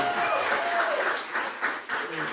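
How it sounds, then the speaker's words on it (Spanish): An audience at a debate breaks into applause, a dense wash of clapping that holds steady with some chatter and a voice over it. "Un aplauso, por favor."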